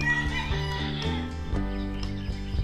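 Chickens cluck and murmur nearby in a busy, overlapping chorus, with a few sharper calls standing out.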